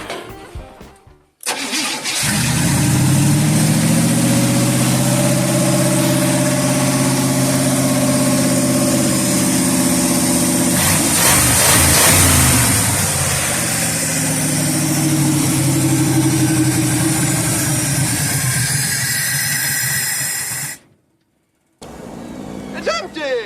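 An old revived engine starts and runs loudly up close for about twenty seconds, its steady drone rising and falling as it revs, then cuts out abruptly.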